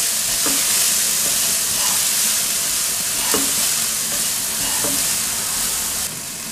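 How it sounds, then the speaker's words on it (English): Eschalots frying in a pan with cashew and ginger, a loud, continuous dense sizzle with a few faint stirring knocks, alone without talk. "We're going to let that fry for a few minutes."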